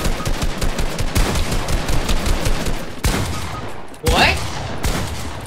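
Rapid video game gunfire rattles almost nonstop in dense, loud bursts, with a brief pause and a voice cutting in once near the end.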